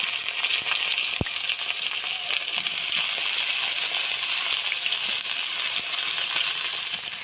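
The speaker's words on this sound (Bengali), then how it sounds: "আমি বেগুনটা ভাজার জন্য সরষের তেল দিয়ে দেবো কড়াতে।" Brinjal frying in mustard oil in a wok gives a steady, dense sizzle that holds evenly throughout, with a single sharp click near the start.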